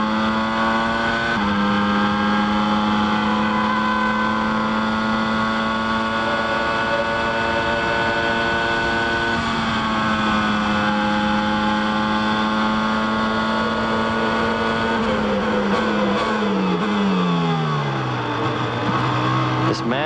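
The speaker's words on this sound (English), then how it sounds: "Let's listen to the sound of this V10 as Prost works behind the Tyrrell up ahead." Alain Prost's V10 Formula 1 car howls at the 1993 Belgian Grand Prix while chasing a Tyrrell, a sustained high-pitched engine scream with gear changes and a falling pitch near the end as it slows, under faint commentary.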